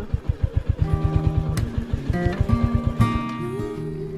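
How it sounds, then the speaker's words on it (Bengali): A Royal Enfield motorcycle thumps along a muddy dirt road, its single-cylinder engine pulsing in a steady, close, loud rhythm that shifts as the rider works the throttle. "রয়্যাল এনফিল্ড কোনো রকমই চলছে, কিন্তু সাধারণ বাইকের জন্য এই পথ একেবারে অনুপযোগী"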